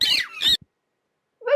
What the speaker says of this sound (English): Certainly, it is screeching. Screeching of parakeets.